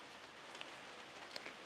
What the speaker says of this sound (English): Hope your friends enjoy the rain pitter-patters falling on the roof.